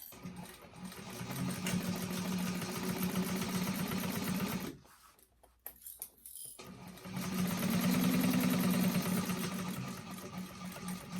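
A sewing machine runs fast and steady, stitching along an existing seam line on a fabric bag, pausing briefly midway before resuming its even mechanical rattle.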